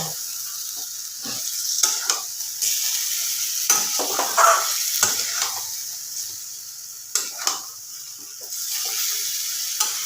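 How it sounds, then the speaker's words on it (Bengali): Chicken pieces are sautéed in a pan with a steady sizzle, broken by repeated scraping and stirring strokes of a spatula against the metal, close and clear with no talk. "মাংসটা আমি অনেকক্ষণ ধরেই কষাচ্ছি"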